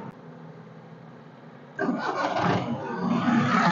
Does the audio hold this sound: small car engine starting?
yes